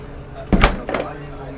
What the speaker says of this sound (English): underneath here, we've got the drawer fridge